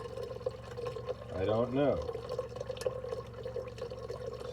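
Water trickles and drips from the hot water line of a 1973 GMC motorhome during winterizing, faint and close, with a brief gurgling gush and quiet talk over it.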